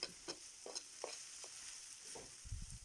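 Soft sizzling and frying of purslane in a pan, with occasional light stirring clicks and scrapes, quiet and close.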